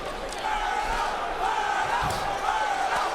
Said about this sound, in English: Crowd chanting Berto's name as he connects with a right uppercut